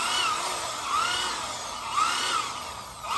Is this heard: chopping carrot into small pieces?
no